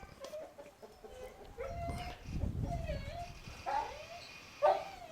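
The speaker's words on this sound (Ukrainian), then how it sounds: "Ну чуєте, вищить, гулять хоче." A dog eager for its walk whines in thin, high, drawn-out whimpers that rise and fall, faint and somewhat distant, while people talk nearby.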